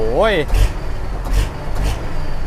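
An engine fitted with an electric throttle controller revs quickly, a sharp rising and falling whine near the start followed by repeated throttle blips, with someone talking over it.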